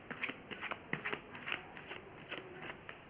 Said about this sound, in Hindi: मैं कार्ड को शफल कर लेती हूँ